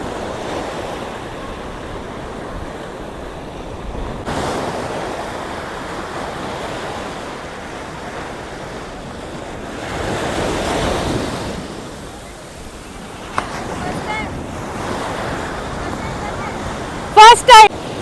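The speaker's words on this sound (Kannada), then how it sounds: "ಅಲೆಗಳ ಸದ್ದು, ಓ ಮೈ ಗಾಡ್." Ocean waves crash and wash up a beach at sunrise in a continuous, surging roar that swells and fades. Steady wind buffets the microphone, and a few sharp clicks come near the end.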